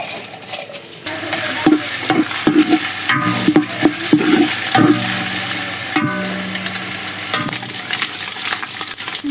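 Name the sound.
cinnamon and cardamom frying and stirred in a pan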